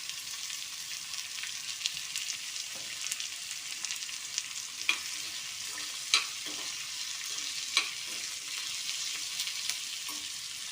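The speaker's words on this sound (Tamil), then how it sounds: "பச்சை மிளகாய், இஞ்சி எல்லாமே போட்டு வதக்கிக்கிறோங்க." Curry leaves, green chili, ginger and onion sautéing in a pan for Tamil thavala adai, a steady broadband sizzle with a few sharp pops and stirring clicks, close and continuous, with no talking.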